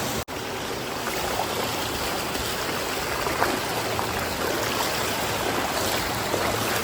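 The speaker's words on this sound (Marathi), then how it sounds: "हा बघा कसं पाणी वाहतोय" Torrential floodwater surges over a Girnar road after heavy rain, producing a dense, unbroken rushing roar close by, with a momentary cut at the very start.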